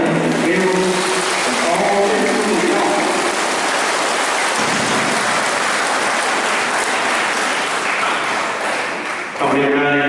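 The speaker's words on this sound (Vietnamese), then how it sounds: "Hôm nay chúng ta hân hoan nổ một tràng pháo tay" Church congregation clapping together at Christmas midnight Mass, a dense, steady wash of applause that holds for the whole stretch, with a voice speaking over it at the start and end.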